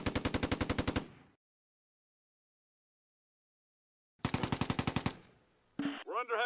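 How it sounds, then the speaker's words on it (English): Rapid machine-gun bursts from the World War II strategy game Close Combat: A Bridge Too Far, set in Operation Market Garden, fire in two loud, evenly spaced volleys split by a long silence, then short crackling shots. "We're under heavy fire."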